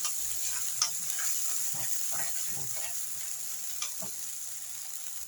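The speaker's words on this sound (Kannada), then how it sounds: "ಇವಾಗ ಎಣ್ಣೆ ಸ್ವಲ್ಪ ಹಿಂಗೆ ಫ್ರೈ ಮಾಡ್ಕೊಳ್ಳೋಣ" Tomato and onion masala frying in oil for a fish curry, a steady close sizzle with occasional stirring scrapes and small pops, no talking.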